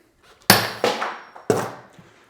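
Hand cutters biting through a quarter-inch grade 5 steel bolt: three sharp, loud metallic snaps, each with a ringing decay, spaced unevenly and close up.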